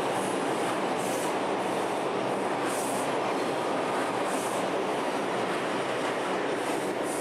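An R142 subway car on the 5 line at Wakefield–241 St rumbles with a dense, continuous roar and wheel noise, with faint repeating clicks of the rails running through the whole stretch, steady and close.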